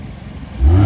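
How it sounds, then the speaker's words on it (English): A car engine at a Portrush car-spotting meet revs up sharply near the end after a steady low rumble, a short loud burst close by. "Give her a rev. Give her a wee rev."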